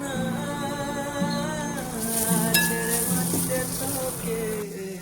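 Ground spices like turmeric, chili, cumin and coriander fry in a pan with peas, tomatoes and potatoes for a Bengali dish, a steady close sizzle with occasional stirring clinks beneath sustained musical tones.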